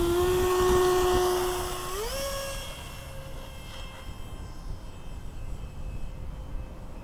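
Banana Hobby F-16 Falcon 70mm electric ducted-fan RC jet in flight, a loud high-pitched turbine whine that drops in pitch after about two seconds, then continues as a steadier, fainter hiss-like whine with no talking.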